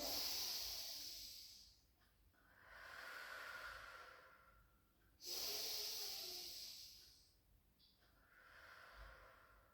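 Slow, deep breaths during a Pilates hamstring stretch, each long airy inhale and exhale rising and falling in a steady cycle, close and fairly quiet with no talking.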